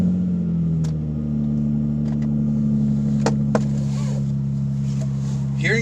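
A Nissan 350Z fitted with a Greddy exhaust drones steadily as heard from inside the car, a low constant engine hum with a few sharp clicks and faint background noises layered over it.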